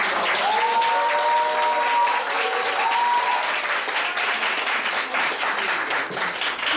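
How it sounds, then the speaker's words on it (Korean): A large indoor audience applauds steadily for several seconds to welcome a food columnist onto the stage at a talk concert, with a brief voice faintly audible under the clapping. "다시 한번 열렬한 환영의 박수로 맞이해주세요"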